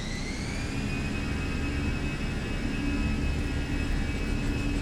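Airliner engines at takeoff power during the takeoff roll, a loud, steady broadband roar with a rising whine, continuous and close throughout with no talk.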